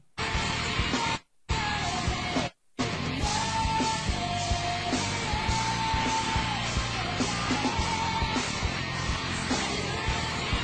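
A church congregation yells and cheers in a loud, continuous crowd roar, with two brief dropouts near the start before the clamour runs on steadily.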